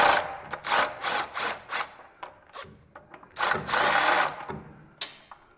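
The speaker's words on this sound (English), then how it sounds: "start taking your screws out" A power driver removes the clutch cover screws on a 2024 Polaris RZR XP 1000 in a series of short, close whirring bursts, with one longer run and quiet gaps between them.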